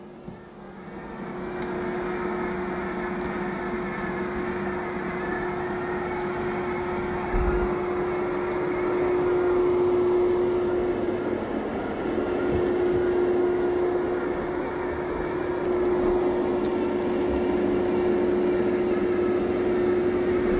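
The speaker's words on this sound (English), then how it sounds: "It's actually doing a pretty good job of vacuuming." A Dyson Spot+Scrub AI robot vacuum works across carpet, a steady close motor drone with a thin constant whine that holds for about twenty seconds, with a soft bump partway through.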